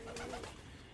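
A pigeon coos once, a soft, low, close call inside a pigeon loft with nest boxes, fading into quiet room hum.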